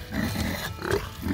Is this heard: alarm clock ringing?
no